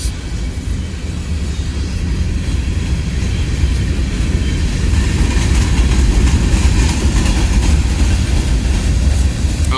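A Norfolk Southern train on the Harrisburg Division rumbles past close by, a loud continuous low roar of rolling cars with faint clattering, steady throughout with no voices.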